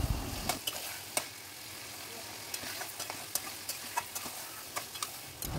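Mutton fries slowly in spice paste, giving a quiet, steady hiss broken by irregular sharp pops and clicks, with no talking.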